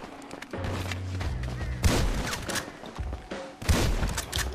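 Rapid bursts of gunfire in GTA Online, dense overlapping shots with a few heavier booming hits, loud and continuous throughout, with players talking over the shooting.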